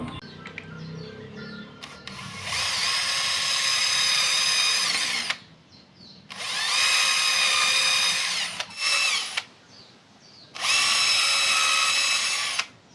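An electric drill with an 8 mm bit bores a hole in PVC, running in three long whining bursts and one short one, loud and close, with quiet gaps between.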